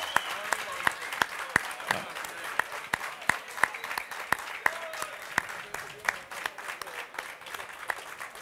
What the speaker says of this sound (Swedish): en applåd för